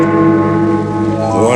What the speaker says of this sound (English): Then the bell struck 1.